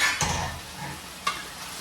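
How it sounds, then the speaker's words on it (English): Chicken fries in a pan beside a pot of rice on the stove, giving a steady close sizzle, with a brief utensil scrape or stir near the start and another near the end. "Now it's getting a nice fry on it."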